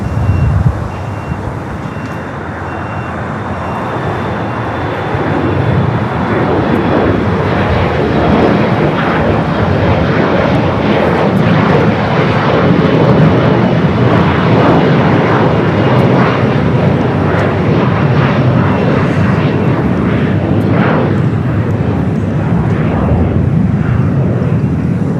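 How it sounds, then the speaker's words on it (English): ITA Airbus A350-900 arriving from Rome at LAX, a loud, sustained jet roar that builds after a few seconds and holds steady for the rest of the clip, with no talking. "ITA, the A350-900, flight 620, coming in from Rome"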